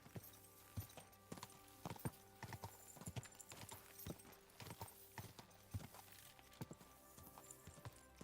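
Horse hooves clip-clop steadily in the medieval game Kingdom Come: Deliverance II, a brisk irregular patter of close, moderately loud footfalls over faint ambient background, with an occasional snort.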